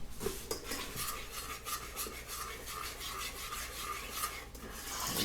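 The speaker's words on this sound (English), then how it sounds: "We're going to put these eggs in and mix it and stir it" Eggs being stirred into a Nanaimo bar base mixture, a steady close rasping scrape of utensil against bowl that runs continuously throughout, without talk.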